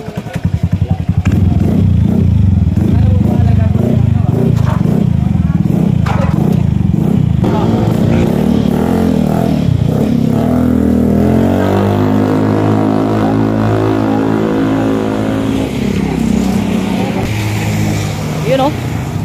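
A Honda Beat scooter fitted with a HUN Power exhaust pipe revs loudly and close, its engine climbing and falling in pitch across long throttle blips, with voices talking over it.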